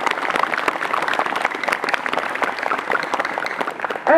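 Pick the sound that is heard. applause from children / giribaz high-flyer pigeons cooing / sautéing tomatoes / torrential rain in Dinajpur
applause from children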